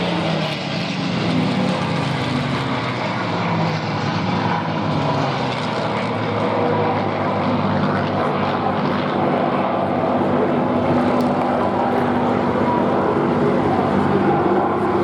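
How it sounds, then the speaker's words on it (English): A P-51 Mustang piston-engine fighter flying at an air show, its propeller drone loud and steady throughout with a gentle rise and fall as it passes. "This is one of the sexiest aircraft which ever flew."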